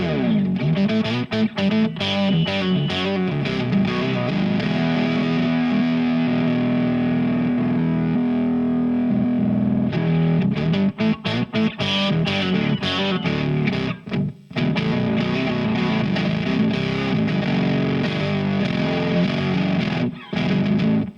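An electric guitar plays through a Line 6 HX octaver effect, producing thick, distorted riffs with a doubled low octave, sustained notes and choppy chord hits with brief gaps, loud and up close.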